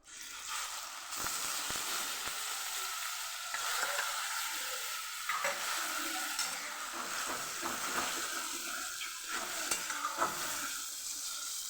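Onions frying in hot oil with a spoonful of asafoetida for pav bhaji: a steady bright sizzle runs throughout, with occasional scraping stirs of a spoon in the pan, close and alone without speech.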